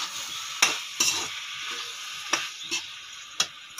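Tomatoes dropping into a hot pan for a pea curry, with a bright hissing sizzle broken by several sharp utensil taps and scrapes, close and fairly loud.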